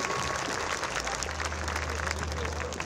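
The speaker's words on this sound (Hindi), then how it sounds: "ताली बजाओ जोरदार इस बात पे।" An audience claps loudly and steadily throughout at an Amrit Mahotsav gathering where Baba Satyanarayan Maurya performs, a dense continuous wash of many hands with no pause.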